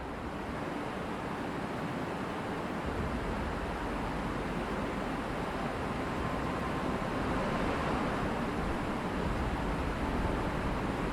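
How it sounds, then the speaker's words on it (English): Kaieteur Falls on the Potaro River gives a loud, continuous roar of falling water, a steady wash of broadband rushing noise that holds for the whole stretch with no talking. "The roar of Kaieteur can be heard long before it is seen."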